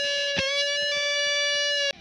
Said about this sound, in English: Let's try this Petrucci channel lead.